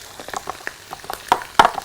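Potatoes layered with phyllo sautéing in a pan, giving soft, scattered sizzles and crackles with a couple of sharper pops near the end.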